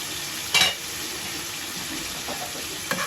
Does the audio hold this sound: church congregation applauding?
no